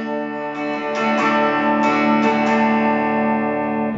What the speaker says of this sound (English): for the chord of D, you strum four strings